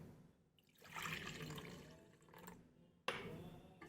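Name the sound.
water being added to a homemade cleaning mixture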